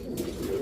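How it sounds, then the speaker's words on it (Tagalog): A racing pigeon in a loft gives a short, close, low coo that hums steadily for under a second. "Ayan, ibon."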